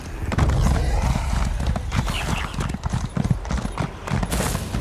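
Horse hooves clip-clop at a steady riding pace in Elder Scrolls Online, the rhythmic thuds close and fairly loud, continuing through the whole stretch with no voices.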